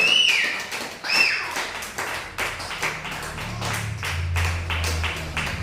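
A church congregation claps together in a steady run of hand claps, moderately close, with a few short whistles or cries at the start.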